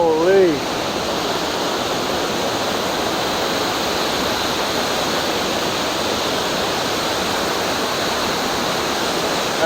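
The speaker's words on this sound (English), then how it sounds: "The raw power of that water is just crazy." A powerful waterfall in Wells Gray, British Columbia roars in a loud, steady, dense wash of water noise that fills the whole stretch, close by and unbroken, with a brief voice at the very start.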